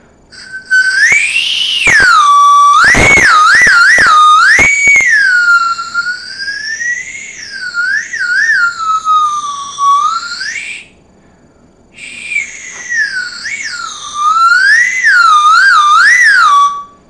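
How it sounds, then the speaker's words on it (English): A shrill Whistle Pop lollipop whistle is blown repeatedly, warbling up and down in long loud toots with a brief pause midway, close and alone. "It's a whistle pop, and listen to this."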